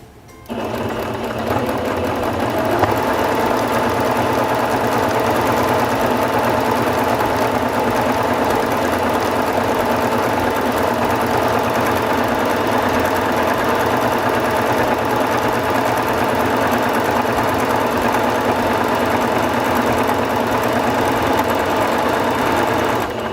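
A Singer Fashion Mate 5560 sewing machine stitches a decorative pattern at steady speed, its motor whirring and needle clattering continuously up close for over twenty seconds, with no talk.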